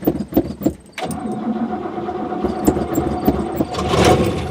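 A car engine cranks and catches after a fresh battery goes in, a few short starter bursts followed by a continuous running idle that builds slightly, close by.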